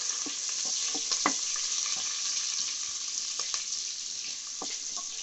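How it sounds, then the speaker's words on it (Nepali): Crushed ginger and garlic in large pieces sizzle steadily in hot oil, a constant hiss with occasional soft knocks of stirring, close and moderate in level. "तेल पनि मजाले तातिसक्यो। यसमा म अदुवा लसुन ठुल्ठुलो पिसमा मैले कुटेर राखेको एड"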